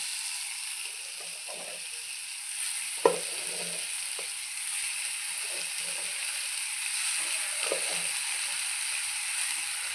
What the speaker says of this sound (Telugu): ఆ పాస్తాను అంతా వేసేసుకొని ఒక 5 మినిట్స్ ఇలా కలుపుకోవాలి